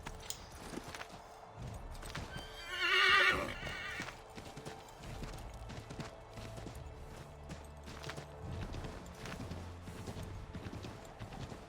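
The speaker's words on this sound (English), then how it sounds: "Using this horse will definitely help get through this frickin' snow." A horse in the video game Assassin's Creed 3 lets out a loud whinny early on, then its hooves clop steadily through snow beneath game ambience.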